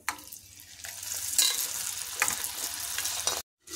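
Sweet corn kernels fry in hot oil, giving a dense, continuous close-up sizzle with crackles and brief stirring scrapes, alone with no voices, then cutting to silence near the end.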